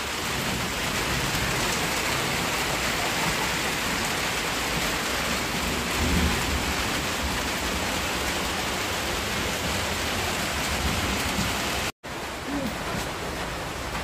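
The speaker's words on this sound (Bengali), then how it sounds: "মাত্র বৃষ্টি শুরু হলো, এদিকে তো আকাশে একদম পুরো মেঘ গর্জন করছে।" Steady, dense rain pours down outdoors near rice paddies, a constant hiss with a faint low rumble of thunder under it; no one speaks.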